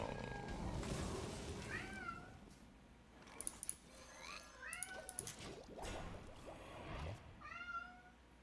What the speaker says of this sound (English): The cat came.